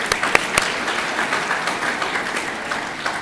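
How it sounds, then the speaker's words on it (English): Steady applause from an audience at a high school senior awards ceremony, dense clapping throughout at moderate loudness with a few sharper claps near the start. "give her a round of applause"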